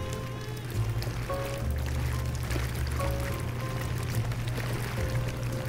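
Steam hisses steadily from a leak in the video game Tesla Effect, a constant broad rushing wash with low droning game ambience underneath, continuous and fairly loud throughout with no voices.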